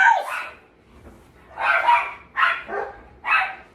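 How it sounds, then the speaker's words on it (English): A dog barks in several separate yappy bursts, fairly close and loud, with short quiet gaps between them and no talking. "Sorry, that's my dog."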